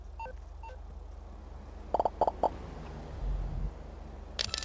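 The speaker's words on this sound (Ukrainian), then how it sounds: "Дістану телефончик, викличу евакуатор." In GTA 5 roleplay, an in-game phone dials a tow truck with a few short keypad beeps in quick succession, then a brief tone, over a low steady background hum.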